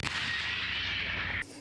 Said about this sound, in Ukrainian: Сьогодні ми стріляли картечним боєприпасом.